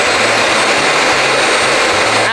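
A Bissell Vac & Steam vacuum cleaner runs close and loud, a steady broadband whoosh with a pulsing low motor hum beneath it and no talk.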